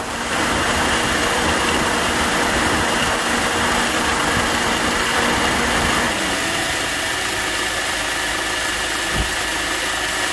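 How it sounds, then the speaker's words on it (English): Car engine idling under an open hood with the AC on, the clutch engaged and the condenser fan roaring, a loud steady whir and hum that shifts to a lower, calmer drone partway through, with a faint knock near the end. "So the AC is on. Condenser fan is going crazy. The AC clutch is engaged."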